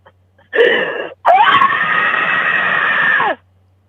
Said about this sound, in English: I want you to let out a huge scream if you can.